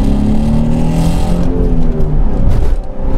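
Naturally aspirated Nissan car engine revving hard at high rpm while driving, heard as a loud close engine roar with rising and falling pitch as the revs climb and drop, no talking.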